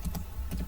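Keystrokes on a computer keyboard entering a Cisco switch configuration command, a few quick taps spread across under a second, fairly close and clear with no talking.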